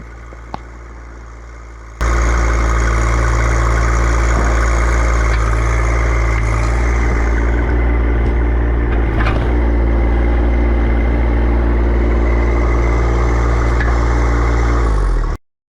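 A John Deere 2025R compact tractor runs at a steady, loud idle after a quieter start, its low engine drone constant and close, then cutting off abruptly at the end.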